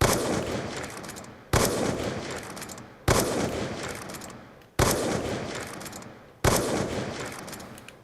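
Quick-scoping sniper shots in the video game Black Ops 2: five sharp, loud shots spaced about a second and a half apart, each followed by a long decaying echo, with no talking.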